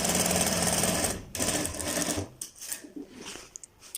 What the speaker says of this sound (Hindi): कफ से इस डिज़ाइन को स्टार्ट करते हैं और कफ से अपनी सिलाइयाँ लगाना शुरू करते हैं